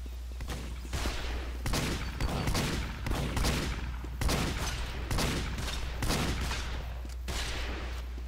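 Rapid, repeated gunfire from a Spy in the video game Team Fortress, dense bursts of shots in quick succession with a steady low hum underneath, close and loud throughout.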